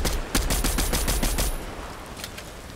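The MK-alfa rifle in Fortnite fires a quick burst of about eight evenly spaced, loud, close shots, then goes quiet with faint game ambience.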